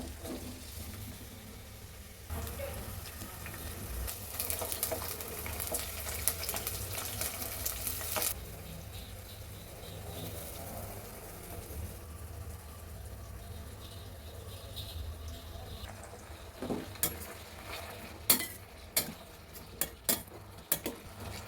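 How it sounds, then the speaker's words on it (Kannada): Onion, green chilli and tomato fry in hot oil in a cooking pan, with a constant soft sizzle under repeated stirring and scraping, then a run of sharp metal spoon clinks against the pan toward the end. "ಈರುಳ್ಳಿ ಮತ್ತು ಹಸಿಮೆಣ್ಸಿನ್ಕಾಯಿ, ಟೊಮೆಟೊ ಎಲ್ಲನೂ ನಾವು ಫ್ರೈ ಮಾಡ್ಕೋಬೇಕು ಫಸ್ಟು."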